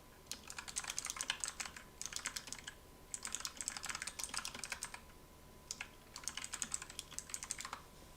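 Quiet, close typing on a Razer computer keyboard, bursts of rapid key clicks separated by short pauses.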